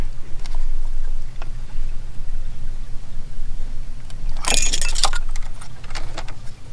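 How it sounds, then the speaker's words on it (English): A small metal band clamp on the cooling hose of a BMW E60 with the N54 engine, pried off with a screwdriver: a brief burst of metallic scraping and jingling midway, over steady low background hum. "Now we need to just slide this metal little clamp. Usually I would snip these off, but I think in this case we might be able to just get it off with a screwdriver."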